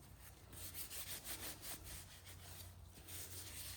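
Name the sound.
diesel-soaked rag wiping crud off a glove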